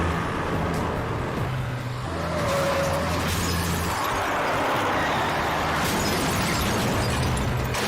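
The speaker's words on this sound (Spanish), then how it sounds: "oyó el sonido de un auto que se dirigía hacia su casa." Around midnight, a car drives toward a house, its engine rising to a loud roar with harsh, gritty noise that could be tires scraping or skidding. No one speaks.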